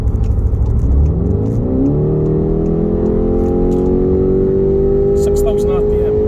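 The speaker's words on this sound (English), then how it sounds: "So I'll give them a bit of distance and I'll try that kick down again." A mk3 Skoda Octavia vRS petrol kicks down, its engine note climbing steadily in pitch as it accelerates hard, heard from inside the cabin with a constant road and engine drone throughout.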